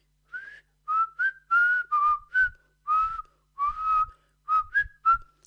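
A person whistles a melodic tune alone, in a series of about ten short, clear phrases with brief pauses between them, close and fairly loud.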